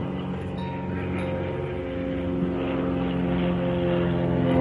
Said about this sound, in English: Someone is flying his plane over here.